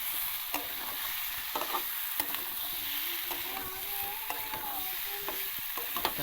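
Boiled potatoes being stirred in a pan: soft, repeated scraping and clinking strokes of a spoon against the pan over a steady, faint sizzle, close and quiet, with no voices.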